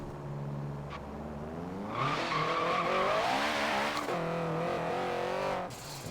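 Turbocharged 1997 Honda Civic Type-R, front-wheel drive and tuned past 700 hp, launching hard with wheelspin: the engine note climbs and holds high and loud for several seconds over a steady idle rumble.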